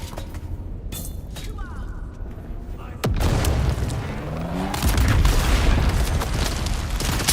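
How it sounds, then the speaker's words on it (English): A grenade blast in the video game Dune Awakening lands as a sudden loud boom about three seconds in. Its rumbling aftermath and combat noise follow, over steady background game sound. "Tossing grenade!"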